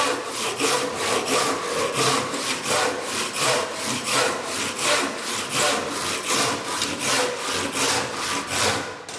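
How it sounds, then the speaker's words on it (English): A hand saw cuts through timber in steady, rhythmic back-and-forth strokes, each rasping pass loud and close, continuing evenly with no talking. "We're working through the timber from that corner to that corner, just gradually working it through."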